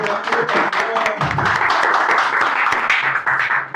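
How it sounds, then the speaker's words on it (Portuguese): Applause from an audience in a legal oratory class, a full continuous wash of clapping filling the room, fairly loud and close with scattered sharper claps, and murmuring voices beneath. "Uma salva de palmas para ele."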